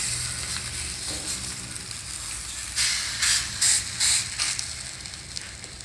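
Ragi methi adai batter spread on a leaf sizzles and hisses as it is turned onto a hot tawa, a soft steady frying hiss with a few brief, sharper crackling bursts midway.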